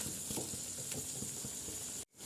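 Prawns cooking in a pan with onion and tomato, a steady close sizzle with faint stirring scrapes, alone with no voices, cutting off abruptly near the end.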